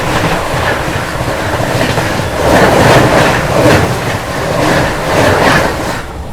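The Vikramshila Express runs at speed, heard from inside a sleeper class coach: a loud, continuous rumble with rhythmic clickety-clack from the wheels rising and falling in waves.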